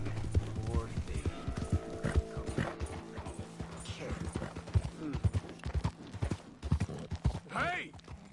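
Horse hooves clip-clop in a PS4 video game, a steady run of sharp hoof beats with a whinny near the end, heard under ongoing talk from people in the scene.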